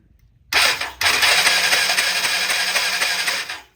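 An ATV four-wheeler engine cranks over with the spark plug fitted, a loud, close, continuous whirring churn that starts abruptly, breaks briefly, then runs steadily for about three seconds before stopping.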